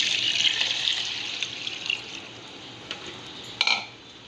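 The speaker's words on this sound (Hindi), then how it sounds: "1 जग हम इसमें पानी शामिल करेंगे।" Water runs and splashes into a cooking pot of moong and masoor dal, a steady bright pour that thins and fades with a few splashes near the end, alone with no talk.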